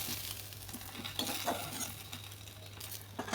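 Fish pieces lightly frying in oil in a pan for an Assamese dish, a steady soft sizzle with occasional stirring scrapes and small clinks, close and continuous with no voices.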